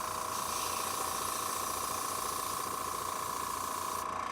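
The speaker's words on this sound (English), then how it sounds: "I'm going to do one more spray on there" Spray primer hisses from an aerosol can onto a 40K miniature, a continuous, fairly quiet steady spray that runs unbroken and cuts off near the end.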